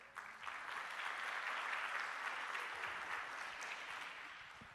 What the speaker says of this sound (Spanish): Quiero, por favor, pedirles un aplauso a la doctora Patricia